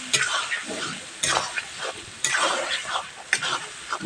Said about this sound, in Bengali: ভালোভাবে নাড়াচাড়া দিয়ে দেবো